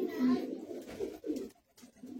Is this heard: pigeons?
yes